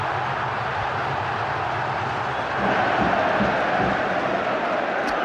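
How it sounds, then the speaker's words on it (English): Football stadium crowd at a Rangers v Celtic match, applauding and cheering every pass as the home side leads 3-0, a dense, steady roar that swells slightly halfway through. "Every pass being applauded."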